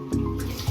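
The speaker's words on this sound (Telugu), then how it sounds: "ఇప్పుడైతే ఇందులో వాటర్ వేసి కలపాలి ఫ్రెండ్స్" A brief splash of water poured into a bowl of rice flour, close up, a short liquid gush with a soft low thud.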